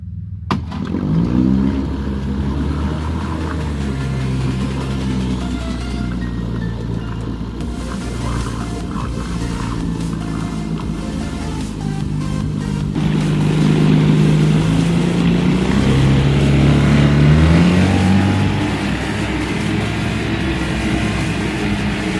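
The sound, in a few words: outboard boat motor starting and running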